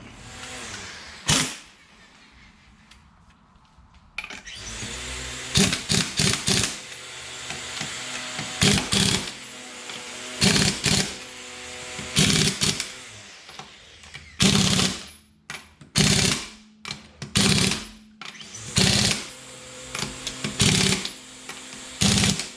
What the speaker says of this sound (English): I put the drums back on, getting ready to tighten these wheels back up.